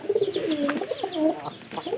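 Caged pigeons and chickens call close by, with low warbling coos and throaty clucks overlapping in a busy, continuous stretch of bird sounds and no talking.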